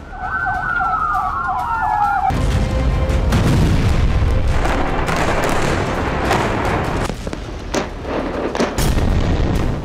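Israeli army MLRS rocket artillery firing, with a loud booming roar and broadband rush dominating, preceded by a wailing siren at the start and sharp bursts scattered throughout, loud and close.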